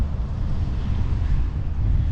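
Strong wind in Palma de Mallorca buffets a camera microphone close up, producing a continuous heavy, low rumbling roar with no talking.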